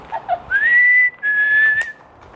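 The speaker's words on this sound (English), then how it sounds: "Are we doing like secret whistles now?" A person whistles two long sustained notes at a former prisoner-of-war camp, the first sliding upward and the second holding steady then dipping, close and clear with faint background noise.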